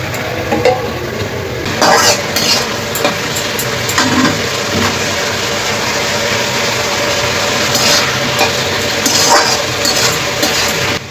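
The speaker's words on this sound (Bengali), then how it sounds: "ম্যারিনেট করা মাংসগুলো এবার কড়াইতে দিয়ে দেবো।" Marinated chicken and fried potatoes sizzle steadily in an oiled kadai while a spoon scrapes and stirs them, a continuous close frying hiss with intermittent clanks of utensil on metal and no talking.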